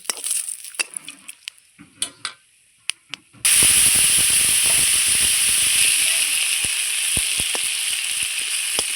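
A bay leaf drops into hot oil with cinnamon and cardamom for tempering: a few light clinks, then a sudden loud, sustained sizzle and hiss close up, peppered with sharp pops and crackles.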